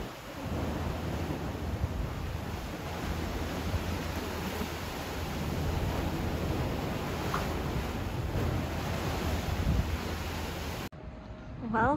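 Steady broadband rush of water waves crashing in central Portugal, continuous and fairly loud like surf or a rushing flow, with wind noise, cutting off abruptly near the end.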